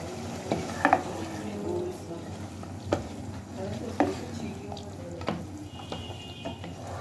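Masoor lentils being stir-fried in a pan give a soft sizzle, broken by scattered clicks and scrapes of a spoon against the pan, with no voices.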